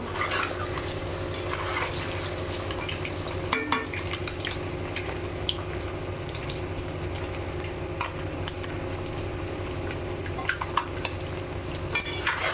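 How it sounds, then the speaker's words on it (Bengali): Eggs sizzle and crackle in a hot pan, a dense, steady spitting of oil with occasional sharper pops and light utensil clinks. "ডিম কিন্তু আমার ভাজা ভাজা হয়ে গেছে"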